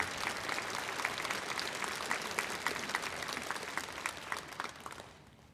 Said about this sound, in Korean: 하나님께 영광의 박수를 한번 올려드리겠습니다